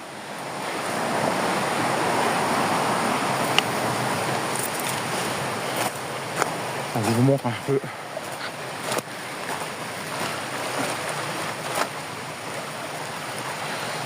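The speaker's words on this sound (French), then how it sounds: "je vous laisse apprécier le bruit de l'eau" Water runs from small cascades beside an abandoned former hospice, a continuous rushing wash at steady volume, with someone briefly talking over it partway through and a few scattered knocks.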